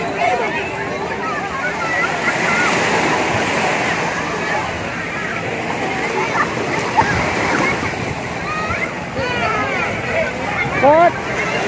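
Sea waves break and wash on a beach during a family swim, a steady loud roar of surf with splashing, mixed with nearby chatter and voices of people in the water.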